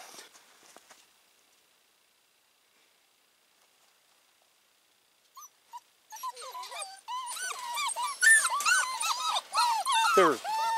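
Puppies in a kennel whimpering and whining in a busy chorus of high, wavering cries that begins after a quiet stretch and builds to near, fairly loud wails, with faint movement sounds early on.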